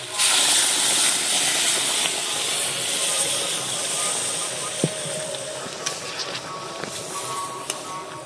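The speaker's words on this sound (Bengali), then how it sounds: "এবারে ফুটান্ত গরম জল দিয়ে দিচ্ছি" Boiling hot water is poured onto sautéed potatoes in a pan, producing a loud, sustained hiss of steam that slowly fades, with a few faint clicks near the end.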